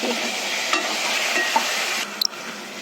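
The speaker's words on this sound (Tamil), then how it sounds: "அப்படியே ப்ரௌன் கலர் வந்த வரைக்கும் ஃப்ரை பண்ணணும்." Ginger garlic paste fries in a pan until brown, a steady soft hiss of sizzling oil close by, with a few light stirring taps and no voices.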